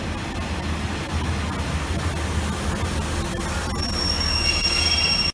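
Train pulling into Doncaster station with wheels squealing on the rails, a steady rumble building louder and high-pitched squeal tones rising toward the end, no talk.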